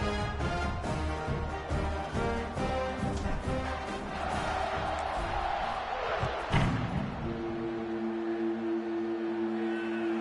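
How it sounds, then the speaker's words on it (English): A stadium crowd in a college football video game roars and buzzes after a score, with a steady dense murmur, a loud thud partway through and band-like tones emerging afterward. "this crowd is buzzing after that last score"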